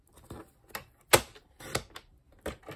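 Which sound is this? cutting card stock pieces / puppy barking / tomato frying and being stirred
cutting card stock pieces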